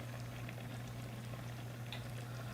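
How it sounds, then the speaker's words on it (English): Skillet spaghetti with seasonings comes to a boil in a pan, giving a faint, steady bubbling patter over a low constant hum throughout. "we have everything in a pan, and it's coming up to a nice boil"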